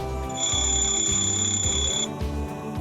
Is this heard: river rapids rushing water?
no